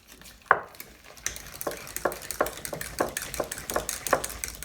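An egg being whisked quickly into a sweet potato casserole mixture in a bowl: a steady run of fast, rhythmic clinks and scrapes, close and fairly quiet, with no talking.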